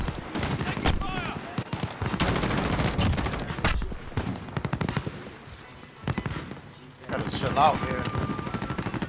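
Light machine gun fire from a video game, long rapid bursts running through most of the stretch with brief pauses, loud and dense, while players talk over it.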